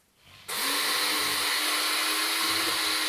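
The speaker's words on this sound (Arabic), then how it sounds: "وهاي الحبة السوداء احنا نطحنها هنا" An electric grinder milling black seed starts abruptly after a short quiet moment, then whirs at a steady, loud, high-pitched drone close by.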